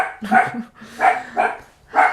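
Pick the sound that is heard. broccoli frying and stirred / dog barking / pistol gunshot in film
dog barking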